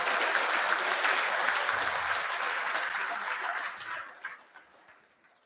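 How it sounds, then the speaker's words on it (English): Sustained applause from a school assembly crowd at a Year 11 prize giving, honouring the top students, dense and even before it thins and fades out toward the end. "So a round of applause, please, for these top 5 students"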